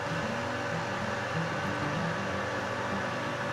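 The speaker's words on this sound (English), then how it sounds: "I'm pumping over some boiling water." A pump transferring boiling water into a brew pot for a bourbon corn mash, a steady, even mechanical hum and rushing flow that continues unchanged throughout at moderate level.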